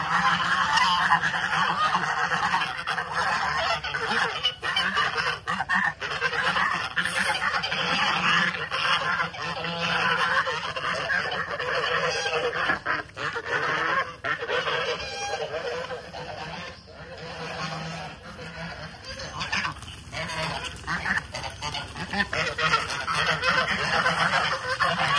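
Chinese geese and white geese honking on a farm, a loud, continuous chorus of overlapping honks and squawks near at hand, with a voice talking over the flock.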